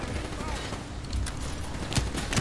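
Gunfire in Call of Duty: Black Ops III crackles in short bursts over a busy game soundscape, with a voice talking over it at moments.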